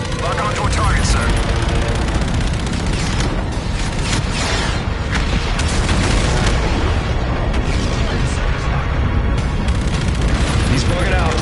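Missile launches and heavy explosions in Call of Duty: Infinite Warfare, a dense, loud barrage of booms, blasts and gunfire with mechanical rumble throughout and voices calling out over it.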